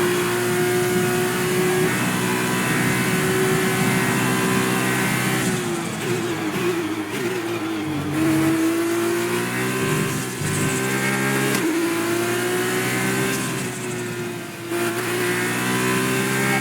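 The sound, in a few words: F2 race car engine in video game F1 2020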